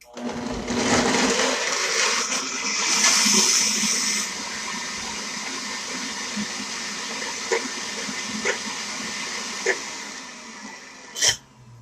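Immersion-style blender whirring through partly frozen avocado and salad ingredients, a loud continuous motor drone that strains and shifts pitch, with a few sharp clicks and clunks near the end; no talk.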